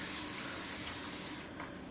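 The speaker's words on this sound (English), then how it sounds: "I respray it with this spray bottle to make sure it stays sopping wet." A spray bottle mists water onto curly hair in one sustained hissing spritz lasting over a second, close and fairly loud, then it stops abruptly.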